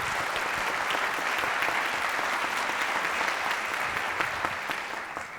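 Audience applause at a Venezuelan panel event, a steady wash of clapping from a crowd that holds evenly for several seconds and fades slightly at the end, with no talking.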